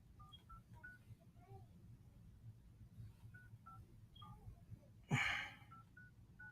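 A telephone number is keyed in as a series of short, faint touch-tone beeps at an irregular pace, with a brief louder noise partway through.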